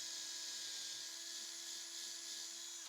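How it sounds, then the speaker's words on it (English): A small electric drill with a 3mm bit whines steadily and close for about three seconds while boring through wood, then stops abruptly. "I'm going to use a 3mm drill to drill through it."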